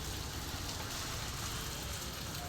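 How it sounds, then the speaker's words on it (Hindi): Steady rain hisses without a break, a dense even wash of noise with no voices. "फिर से बारिश आ गई।"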